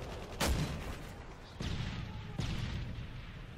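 Gunfire in Call of Duty: Modern Warfare 3: three distinct sharp shots spaced about a second apart, the first the strongest, fairly faint and distant over a low ambient bed.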